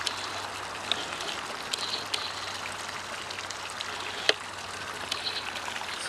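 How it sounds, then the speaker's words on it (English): Water pours over a small dam in a swamp sanctuary, a faint, steady trickling rush with occasional brief drips and splashes, heard alone at low level. "Looks like there's a little dam here."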